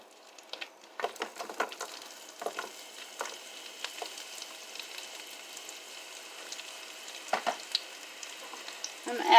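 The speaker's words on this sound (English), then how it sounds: "I'm going to caramelize these onions" Onions sizzling and frying in oil in a pan over low heat, a steady soft crackle with scattered stir taps and a few louder pops near the end.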